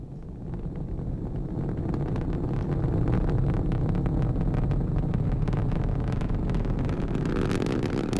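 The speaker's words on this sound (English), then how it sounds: "Liftoff of an ILS Proton from the Baikonur Cosmodrome in Kazakhstan with the Intelsat 31 satellite on board" An ILS Proton rocket lifting off from the Baikonur Cosmodrome in Kazakhstan carrying the Intelsat 31 satellite, a continuous deep rumbling roar with wind-like buffeting, heard from a distance and building slightly, with sharp crackles toward the end.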